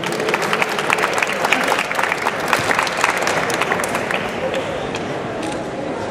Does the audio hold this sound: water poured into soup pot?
no